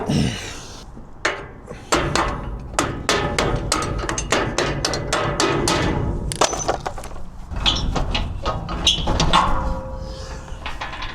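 Metallic hammering on a trailer while a bolt is driven out, a rapid series of sharp clanking blows, loud and close, with no talk over it.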